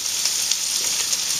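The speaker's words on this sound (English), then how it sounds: "Go ahead and heat that cream up to a boiling." Cream heating toward a boil in a pan for a pork tenderloin sauce, giving a loud, steady bubbling sizzle up close, with no talk.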